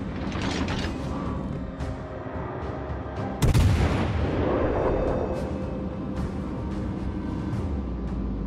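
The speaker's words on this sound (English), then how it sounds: "Concentrate fire on the enemy warship." Naval artillery in World of Warships Legends: loud heavy gunfire with one sharp close blast near the middle, over a constant dense rumble of battle and machinery.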